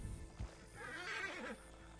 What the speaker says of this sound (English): I must actually need to... catch this horse